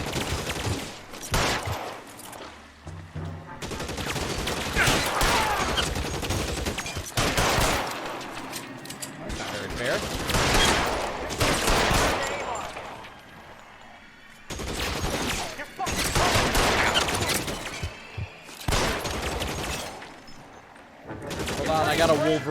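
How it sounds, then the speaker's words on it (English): Gunfire erupts in the 1940s Los Angeles crime game L.A. Noire, with rapid volleys of shots in repeated loud bursts separated by short lulls, and someone talks during the shooting. "Did not expect to immediately get shot at."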